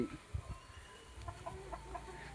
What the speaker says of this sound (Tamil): நாட்டுக்கோழி